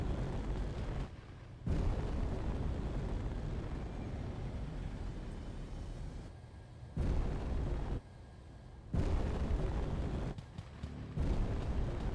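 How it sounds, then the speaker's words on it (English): Heavy rumbling blasts and booming bursts of gunfire and explosions from Space Engineers combat, loud and sustained, with sections dropping in and out abruptly. "I hear gunshots."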